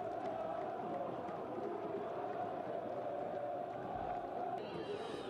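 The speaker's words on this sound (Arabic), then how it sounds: "لتنطلق أفراح الجماهير الودادية الحاضرة بقوة على المدرجات" Wydad Tlemcen supporters roar from packed stadium stands after a goal, a dense, steady wall of crowd cheering and chanting that holds at the same level throughout.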